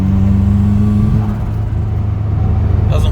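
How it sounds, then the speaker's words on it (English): A car engine with a new turbo revs loud and close with a steady low rumble and hum, wavering and hesitating under power rather than climbing cleanly. "The turbo spools, but it's got a lot of hesitation"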